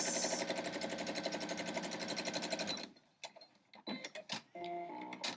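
A sewing machine stitches a quilt block seam at a steady, rapid clatter for about three seconds, then stops, followed by a few clicks and handling noises up close.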